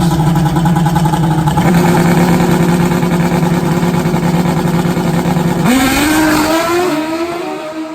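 Nitrous Pro Mod Suzuki drag racing motorcycles in a qualifying round, engines roaring loudly and steadily at close range, then a sharp rising rev as one launches and pulls away, fading slightly toward the end.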